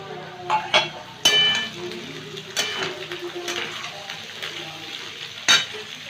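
Capsicum, peas, green chillies, cashews and raisins frying in a pan over medium heat, a steady soft sizzle broken by a few sharp clinks of a spatula against metal.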